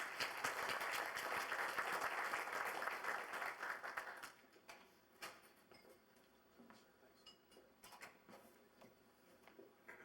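A luncheon audience at a 2002 conference applauds to welcome keynote speaker Leon Fuerth, with strong, dense clapping for about four seconds that then fades to scattered claps and room noise.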